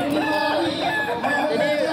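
A Kukuak Balenggek rooster, an endemic chicken breed from Solok, crows in a long, wavering call that fills the whole moment at close range.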